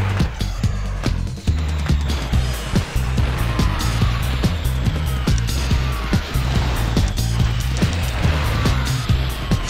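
Engine roar and tire noise from a vehicle driven in the video game Vigilante 8, a loud continuous motor drone with repeated skids and impacts, no talking.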